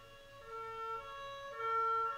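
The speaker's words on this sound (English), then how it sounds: "Oh, they got an ambulance out here." Ambulance siren in the video game Ace Attorney: Spirit of Justice, a steady synthesized two-tone wail that holds continuously and grows slightly louder toward the end, with no talk over it.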